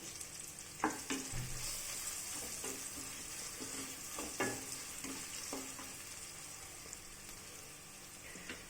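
Brinjal pieces frying with turmeric in a hot tempering: a continuous soft sizzle with scattered spatula scrapes and taps against the pan, close and fairly quiet, no talking.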